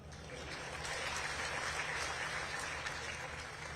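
Audience applause during a speech by RSS chief Mohan Bhagwat, a steady, continuous clapping from a crowd heard alone at moderate distance for a few seconds.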